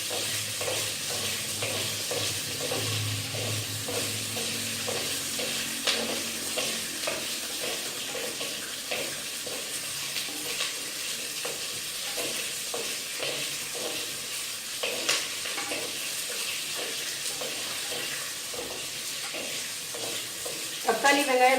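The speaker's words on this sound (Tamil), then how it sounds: "தக்காளி நல்லா சுருங்குற வரையும் வணங்கிட்டே இருக்கட்டும்." Chopped tomatoes and onions sauté in a clay pot, a steady close sizzle and hiss with repeated scraping stirs of a spoon against the pot, no talking.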